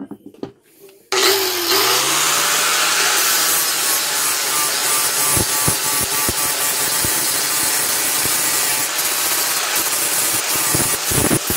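A power sander grinds down a wooden tool handle after a brief quiet start, a loud, steady abrasive whir with scraping surges and short clacks running for about ten seconds, no talk.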